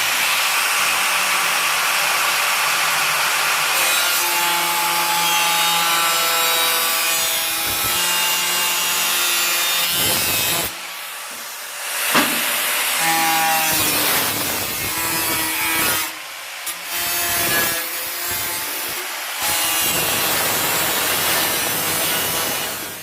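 A power machine cuts marked plywood pieces for a homemade air cooler with a loud, continuous whining and rasping drone. Brief pauses and shifts in pitch come as the blade works through the wood at close range.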